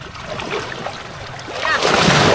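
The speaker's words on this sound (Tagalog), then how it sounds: "Lakas na ng alon" Strong ocean waves wash onto a black-sand beach, a steady broadband surge that swells louder toward the end, with people talking faintly underneath.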